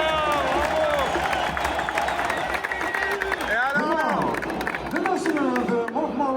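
A crowd applauds at an event in Morocco: clapping and cheering roll on through the whole stretch, mixed with shouting and a busy hubbub of voices.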